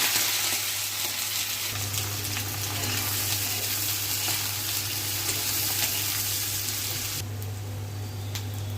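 Chopped onion, green chili, bay leaf and garlic fry in hot oil, giving a steady loud sizzle that runs unbroken and close throughout, with no talking.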